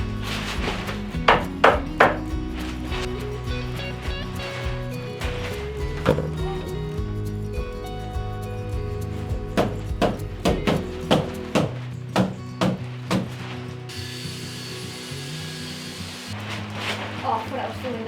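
Irregular bursts of sharp knocks, a hammer striking timber while building a cabin under an old barn, come in quick clusters amid background voices and clatter.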